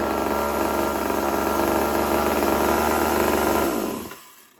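Poulan chainsaw idling after a restart, a steady buzzing two-stroke drone held at fast idle for about four seconds, then dying away as the engine cuts off.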